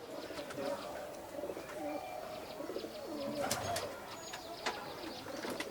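Pet pigeons of a prized pair kept for sale in Kolkata coo softly and steadily amid a busy background of other bird chirps, with faint voices murmuring nearby.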